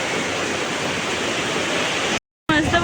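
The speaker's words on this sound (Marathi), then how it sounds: "मस्त पाऊस पडतोय जोरात." Heavy monsoon rain pours down in a rural village near Karnala, a dense, loud and steady roar that breaks off in a brief silence near the end before resuming.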